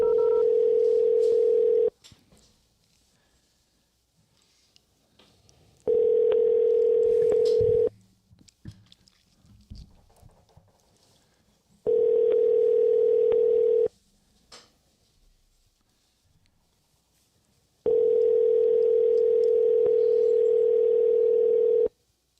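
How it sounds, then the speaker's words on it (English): A telephone ringback tone during a call to a store, steady buzzing rings of about two seconds separated by long pauses, repeating four times, loud and alone. "Why was that one ring so long?"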